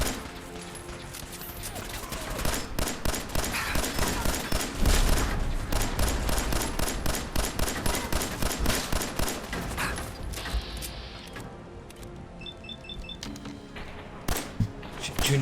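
Rapid gunfire in the Fallout 4 video game, dense bursts of shots rattling almost continuously, loud and close, with a voice talking over the shooting.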